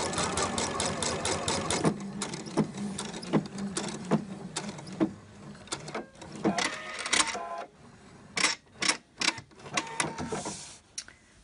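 Sewing machine stitching a Liberty fabric shirt, running in short bursts with pauses, a couple of stitches at a time before stopping and starting again, close and clear with no voices.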